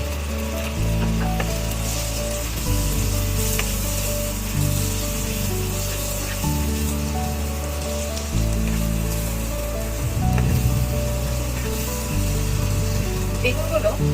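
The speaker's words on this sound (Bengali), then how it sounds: "বেগুনগুলো এখন আমি মশলার সাথে কষাবো।" Brinjal pieces frying and being tossed with spices in a pan for a chewa fish curry, a steady close sizzle with scraping stirs, partly masked by loud tonal background music.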